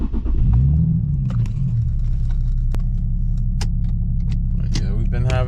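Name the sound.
Infiniti G37 Sport car engine starting and running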